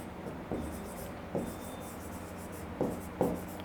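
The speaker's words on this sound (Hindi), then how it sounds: "जैसे एक सेंटेंस लिखते हैं कि ही" Chalk or marker strokes on a classroom board as an English sentence is written out, a few distinct scratchy taps and rubs spaced irregularly, close and fairly quiet with no talk.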